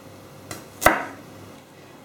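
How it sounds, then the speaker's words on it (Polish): A knife slices through radishes, halving them on a board: one sharp close chop stands out, with a softer cut before it and another at the end over quiet room hiss. "Zabieram się za rzodkiewki i kroję je na połóweczki."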